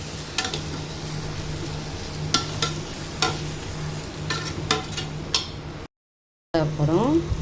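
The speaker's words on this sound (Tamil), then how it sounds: "கிண்டிக்கலாம்." Biryani being stirred in a frying pot with coriander and mint, a low sizzle under a series of scraping spoon strokes, then a short break followed by louder clattering stirring.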